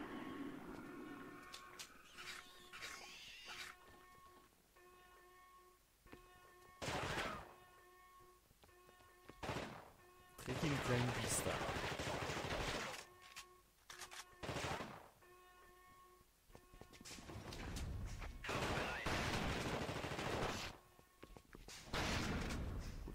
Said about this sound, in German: Schieß doch nicht auf mich